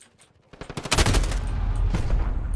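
Gunfire in Call of Duty: Modern Warfare (2019): a rapid string of sharp automatic shots that builds to a loud, dense burst, followed by a sustained rumble of continuing fire and impacts.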